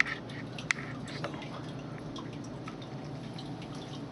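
Water drips and trickles from an old household water heater being drained onto a wet floor, with a few sharp drip taps over a steady low background hum, fairly close.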